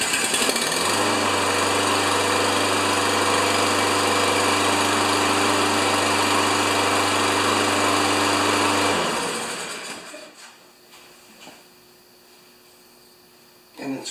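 Toro Recycler lawn mower engine, one that has trouble starting, running at a loud steady drone for about eight seconds, then cutting out and fading into quiet with a few faint clicks and knocks afterward.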